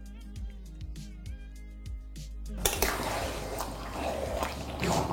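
Water is poured into a pan where potato and pointed gourd are cooking, a sudden loud rushing hiss and bubbling that takes over from softer dripping and thuds; no one speaks.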